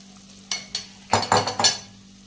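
Stuffed brinjal in masala is stirred in a pan, several sharp scraping strokes of a utensil against the metal over a low hum and soft sizzle, the last few coming in quick succession.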